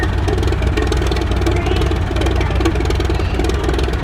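Antique Allis Chalmers E tractor engine running steadily at a showcase, a continuous low idling chug close by with a constant rhythm and no talk.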